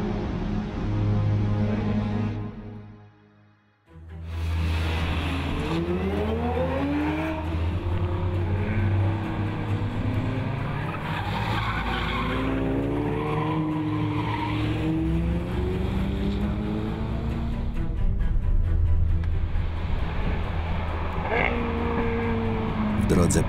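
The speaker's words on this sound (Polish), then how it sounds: "wskrzeszonych przez ryk naszych silników" Car engines roaring inside a mountain tunnel on the Transfăgărășan road, loud revving and tire squeal echoing over several passes, with a brief quiet gap early on and a voice talking over part of it.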